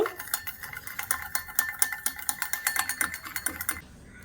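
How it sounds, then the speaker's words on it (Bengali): Oil and water whisked in a bowl for jhal chitoi pitha batter, a rapid, steady metallic clicking and scraping rhythm close up, stopping abruptly near the end. "ওর মধ্যে 1 চামচ সাদা তেল আর 1 চামচ জল দিয়ে ভালো করে ফেটিয়ে নেব।"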